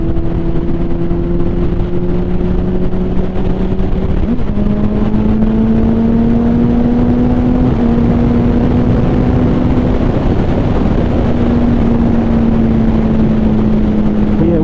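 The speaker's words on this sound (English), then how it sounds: "I just keep the throttle buried and just kick it up, and she giving me all she got." A 2006 Repsol Honda CBR1000RR sport bike accelerating hard with a Healtech quickshifter, loud continuous engine drone climbing in pitch, with quick upshifts that briefly dip the note before it rises again, wind noise throughout.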